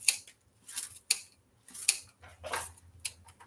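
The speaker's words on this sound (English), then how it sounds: "It's easier to cut it with the scissors than chop it with the knife." Scissors snip through kale leaves in a few separate crisp cuts, close and distinct, each a quick metallic snap with short pauses between.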